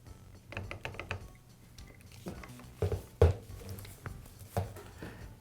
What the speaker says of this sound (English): I'll press the lock pin to lock the grinder's spindle